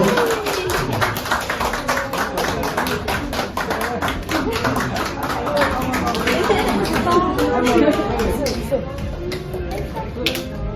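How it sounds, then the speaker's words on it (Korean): Guests at a Korean-Myanmar wedding ceremony give a round of applause. The clapping is steady, dense and fairly loud for the whole stretch, with crowd chatter and voices underneath. "박수 다시 한번 드리겠습니다"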